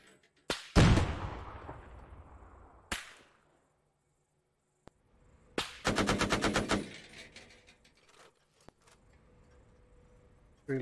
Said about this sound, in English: Forgot the silencer on that gun.